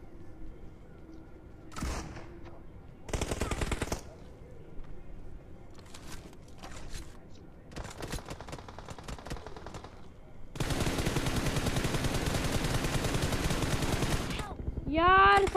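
Gunfire in PUBG Mobile crackles in short bursts, then a long sustained volley of rapid automatic shots near the end.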